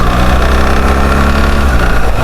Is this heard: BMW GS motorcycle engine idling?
yes